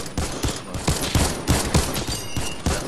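Rapid pistol gunfire in the Fortnite battle royale game, a loud, close volley of repeated sharp shots in quick succession lasting the whole few seconds.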